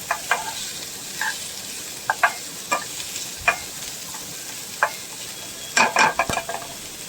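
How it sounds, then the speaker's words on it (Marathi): A spatula stirs chopped onion and capsicum frying in oil in a pan, giving a steady sizzle punctuated by sharp, close scraping strokes at irregular intervals, with a quick cluster of stirs near the end. "शिमला मिरची परतून झाली, थोडीशी अगदी तेलात फ्राय केल्यासारखी करायची."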